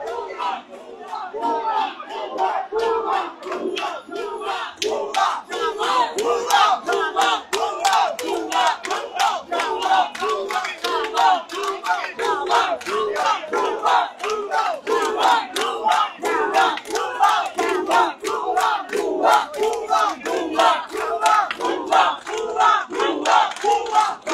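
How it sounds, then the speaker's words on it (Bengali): A crowd of protesters at a student alliance demonstration against Jamaat-Shibir near a closed park gate chants "bhuya bhuya" in a loud, steady rhythmic pulse of many voices that continues throughout. "সবাই স্লোগান দিচ্ছে ভুয়া ভুয়া"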